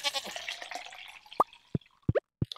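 Short bleats from sheep in the farming video game Stardew Valley, several brief, clear calls spaced out over a couple of seconds. Each call follows a moment of soft speech and plays alone.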